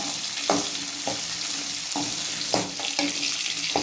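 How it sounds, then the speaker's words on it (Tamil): Onions and dried red chillies sauté in a pan for manathakkali keerai chutney, with a steady oily sizzle broken by repeated spatula scrapes and knocks at an irregular rhythm, close up and no one speaking. "நம்ம உங்கள் காரத்துக்கு ஏற்றாப்புல காஞ்ச மிளகா ஆட் பண்ணிக்கோங்க. அதையும் போட்டு நல்லா வதக்கிக்கலாம்"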